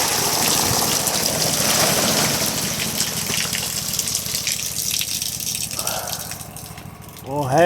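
Water draining off during an evening trail ride, a loud rushing gush with rattling that gradually weakens and ends with a voice speaking over it.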